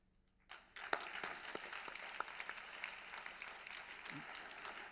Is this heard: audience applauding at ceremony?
yes